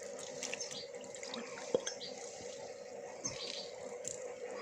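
Water poured onto sprouting bird seed in a container, a steady soft trickling and splashing that runs the whole time, with a small drip or clink partway through.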